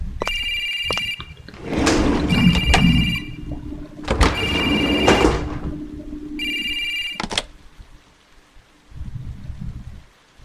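A public phone in the horror game Shin Hayarigami 2 rings in repeated bursts of bright electronic trills with short pauses, while rain patters steadily underneath.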